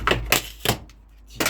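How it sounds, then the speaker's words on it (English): Rotten wall panel torn out of a caravan during gutting, giving a few sharp, loud cracking rips in quick bursts with short quiet gaps between them, close by and alone. "You just have to rip this out."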